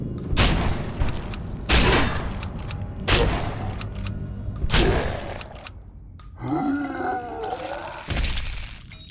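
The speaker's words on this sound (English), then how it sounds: "switch to the shotgun." Shotgun blasts in the horror shooter Nightmare of Decay, several loud booming shots spaced a second or two apart, followed by growling creature noises near the end, with no talking.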